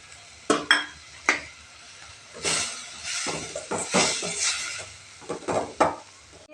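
Manathakkali spinach with grated coconut being stirred and fried in a pan, giving a soft sizzle under repeated scraping and clinking of a spoon against the pan in irregular strokes, close and moderately loud.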